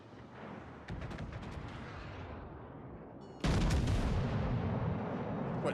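Large guns fire in heavy, booming blasts: a first volley begins about a second in and a louder, denser barrage erupts midway, with rolling, rumbling noise sustained throughout. The gunfire is close and loud, with no talking.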